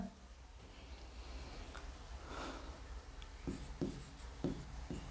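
Marker or chalk writing on a board during a Hindi grammar lesson, a steady faint scratching stroke followed by several short, distinct taps and strokes near the end, with no talk over it.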